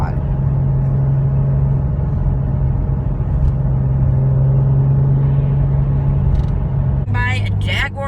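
A Porsche 911 997 Turbo Cabriolet engine holds a low, steady rumbling hum close by, with a person talking over it and a brief change in tone near the end.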